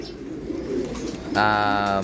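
A pigeon's soft cooing call begins partway through, close and steady, over a low background murmur.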